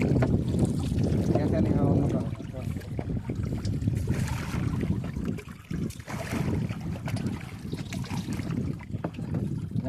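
A rowed boat travels down the Ganges from Ranaghat toward Barrackpore, with a steady rumble of wind and water around the hull. People talk on board throughout.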